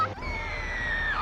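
A human voice imitates the mating call of a female forker monkey in heat, from GTA Vice City: one sustained, wavering high-pitched squeal, loud and close, held for over a second before tailing off.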